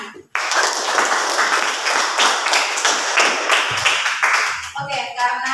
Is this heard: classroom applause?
yes